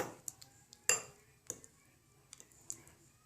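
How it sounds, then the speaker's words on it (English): A utensil stirs an oil-based deep-conditioner mixture by hand in a bowl, giving sparse, quiet clinks and scrapes, one sharper tap among several softer knocks at irregular intervals. "I'm going to have to actually stir this"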